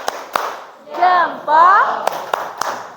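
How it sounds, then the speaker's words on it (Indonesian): A classroom group claps in a few sharp, separate hand claps, spaced irregularly around a teacher's short spoken praise. "Boleh tepuk tangan dulu untuk kelompok."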